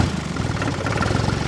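A tractor engine running steadily, a loud close rumbling drone with a continuous throb and no talk.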